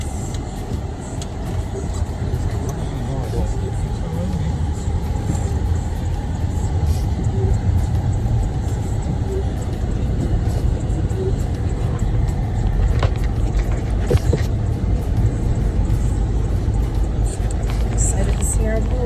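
Steady interior rumble of a car driving on a road in Jamaica, a continuous low engine and road drone throughout with faint occasional background sounds.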